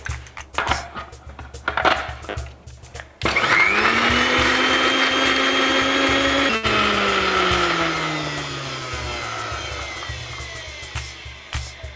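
A mixer grinder whirs loudly for several seconds, grinding masala into a paste, its motor pitch steady then dropping as it spins down, with clattering handling noises before and after.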